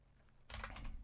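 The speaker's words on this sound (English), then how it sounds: "I have an IBM Model M and it's a bit loud, so I'm going to start typing." An IBM Model M buckling-spring keyboard starts a dense, loud burst of clacky keystrokes halfway through after a quiet room, the keys pounding close and fast.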